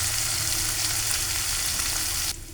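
Mourola fish rubbed with salt, turmeric and chili powder fries in mustard oil in a kadai, making a loud, dense, continuous sizzle that drops away sharply near the end.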